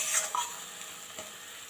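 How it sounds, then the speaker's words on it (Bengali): Spice paste with salt fries in oil in a pan, giving a soft, steady sizzle with a couple of brief stirring scrapes at close range. "দিয়ে কিছুক্ষণ ভেজে নেব।"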